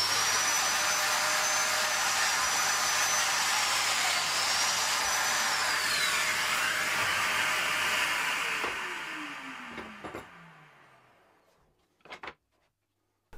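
A domino joiner cutting mortises into a walnut footstool leg, with a loud, steady, whining motor hum close by that slowly winds down and fades, followed by a few brief clunks, with no talking.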